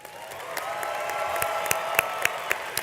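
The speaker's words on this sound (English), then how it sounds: "Let's give our Scorpions another round of applause." Moderate applause from a high school graduation audience, fairly soft and distant, with a few sharper individual claps popping out near the end.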